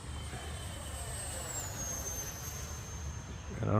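A battered, crash-repaired Freewing 70mm BAE Hawk RC jet flies with afterburner on, giving a steady, fairly loud electric ducted-fan whoosh and a high whine that sweeps downward as it passes.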